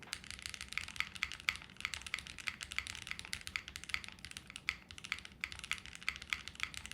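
Steady, fast typing on a JRIS65 mechanical keyboard, with a dense run of crisp key clicks and periodic spacebar presses, close up and alone without any talking.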